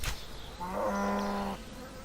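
A cow in a video game gives a single short, clear moo, close and fairly quiet, alone against a faint background.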